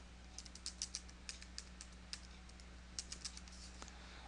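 Quiet, close clicks of a laptop keyboard as an email address is typed, in short irregular bursts of keystrokes separated by brief pauses over a faint steady hum.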